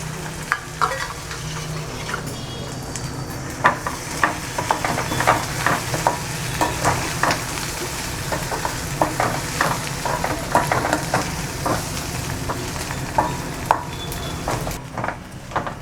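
Flattened rice (aval) dough mixture with coconut is sautéed in a pan, a continuous sizzle broken by frequent rhythmic scraping and stirring strokes of a spatula, loud and close with no talking.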